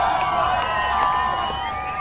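A crowd streaming through the opening gates of the Cabaret Vert music festival in France, a steady dense murmur of many voices with scattered cheers and shouts, continuous and fairly close.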